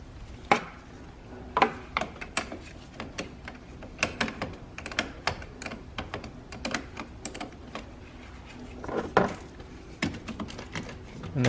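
A size 10 wrench works loose the positive battery terminal on a 2017 or later Nissan Rogue Sport, giving a series of sharp metallic ratcheting clicks and taps at irregular intervals, close and fairly quiet, with no talking.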